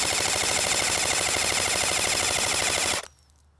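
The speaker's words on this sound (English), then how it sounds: "let's take it on full auto here and see what the grouping looks like" A Sig Sauer 556 airsoft AEG fires BBs on full auto in one steady, rapid, buzzing burst lasting about three seconds, loud and close, then cuts off abruptly into near silence.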